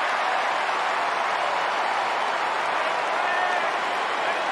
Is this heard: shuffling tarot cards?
no